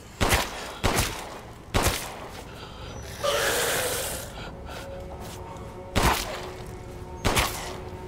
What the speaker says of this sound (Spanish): Cuatro disparos de pistola.